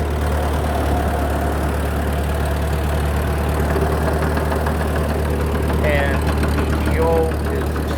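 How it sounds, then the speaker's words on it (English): Small tractor engine running at a steady idle, a loud, close, continuous low rumble with rhythmic knocking throughout, joined briefly by a few faint higher squeaks near the end. "So we'll start the tractor up and I'll show you what I mean"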